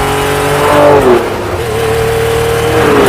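A Ferrari Testarossa's 5-litre V12 revs loud and close, its engine note climbing and falling in sweeping pitch changes with a steady harmonic roar throughout.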